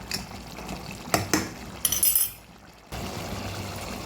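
Water is poured into a pot of chicken curry: a short splashing pour with a few clinks of a vessel, then a sudden stop and a steady low background hiss.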